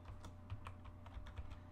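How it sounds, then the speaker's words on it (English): Quiet, rapid key clicks as a password is typed on a computer keyboard, a steady run of light taps with a faint low hum underneath and no voices. "it doesn't look like it's typing anything in, but I did type in the password"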